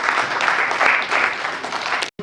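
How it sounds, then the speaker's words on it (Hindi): Audience applause at a family association's annual celebration in Bhiwani, a steady wash of many hands clapping that cuts off abruptly near the end. "आप सभी भी तालियों के साथ अपना योगदान दे सकते हैं।"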